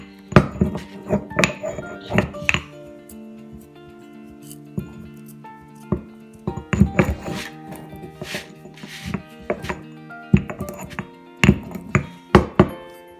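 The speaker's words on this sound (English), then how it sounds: "Make sure that you're grinding it good for better taste." Spices for masala chai are ground by hand in bursts of sharp, close knocks and grinding scrapes, separated by brief quiet pauses.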